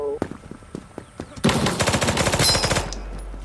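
An Uzi fires in the Krunker.io video game with a few single shots, then a rapid, loud automatic burst for over a second before it stops.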